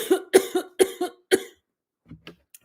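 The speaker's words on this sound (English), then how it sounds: "the cough is starting" Four harsh, close coughs from someone with a sinus infection come in quick succession, followed by softer throat sounds and faint breathing.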